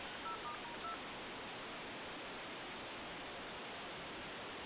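A French-style desk telephone under repair gives a quick, faint run of redial keypad tones near the start, then a steady hiss of line static fills the rest. No voices are present.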